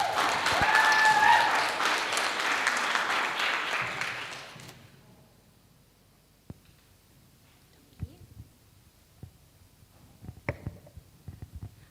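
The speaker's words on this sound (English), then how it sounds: "please welcome a warm round of applause for Miss Gemma Kruin" Audience applause welcoming a speaker onto the stage at a live event, a dense burst of clapping lasting about four seconds before dying away into quiet with a few scattered thumps and clicks.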